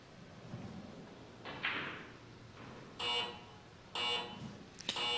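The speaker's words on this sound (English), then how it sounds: "You can hear the buzzers there for the 15 seconds." Two short electronic shot clock buzzer blasts about a second apart, marking 15 seconds at a pool (billiards) match, with a faint third blip after, over a quiet, murmuring background.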